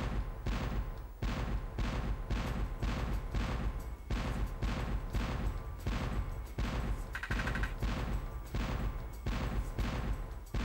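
Rapid volleys of booming cannon fire from a ship-fleet level in Spyro: Year of the Dragon, repeating in an even rhythm of bursts, a faint bright chime partway through.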